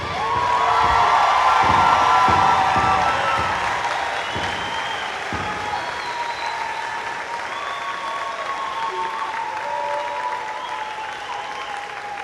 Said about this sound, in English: Can we get one more round of applause for our graduates this year?